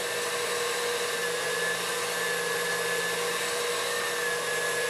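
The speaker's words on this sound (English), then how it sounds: "we're going to whip these up till they're nice and frothy" An electric mixer whips eggs until frothy, giving a steady, loud, unbroken motor whir that holds at one level throughout with no talking.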